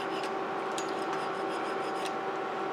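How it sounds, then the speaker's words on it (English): A hand file shapes a metal part of a Dinky Avro model, quick repeated rasping strokes in a steady rhythm, close and fairly quiet, with no talking. "I'm just filing the side here, it's a little bit bulgy."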